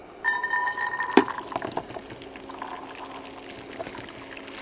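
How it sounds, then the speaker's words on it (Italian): Peas are tipped into a hot cooking pan, giving a quick rattling splash and then a soft, steady sizzle that fades into background kitchen noise. "Butto prima i piselli."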